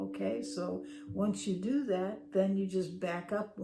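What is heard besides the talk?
No distinct noise like a dog, phone or traffic.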